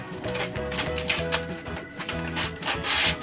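A miniature crossbow prod is hand-sanded with 80-grit sandpaper after grinding, giving close, rhythmic rubbing strokes in a steady back-and-forth pattern with no talking.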